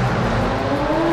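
Cars driving through a tunnel in a film, a loud continuous engine roar with rising pitch as they accelerate, echoing and close, with no speech.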